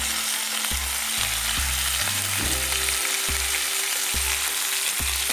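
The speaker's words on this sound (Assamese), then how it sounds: "এতিয়া মই ভালকৈ লৰাই দিম" Red spinach curry fries loudly in a pan, a constant dense sizzle with a steady hum of stepped low tones running underneath and no voices.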